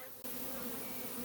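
Honey bees swarming from a peach tree make a dense, steady buzzing drone that swells in suddenly and holds loud and close.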